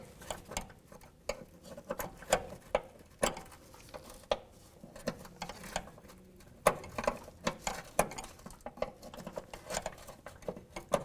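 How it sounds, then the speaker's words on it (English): A 13mm wrench works loose a brake line fitting on a 2001-2007 Volvo V70, giving a close, quiet series of irregular metallic clicks and ratchet-like ticks that repeat steadily throughout with no talking. "There's no tension behind that, so let's get into a 13mm wrench."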